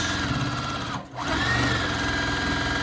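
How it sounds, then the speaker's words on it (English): A sewing machine hums steadily as it stitches a quarter-inch seam in patchwork fabric, pausing for a split second before running on at a constant whirring pace. "run it over the sewing machine, 1/4 inch."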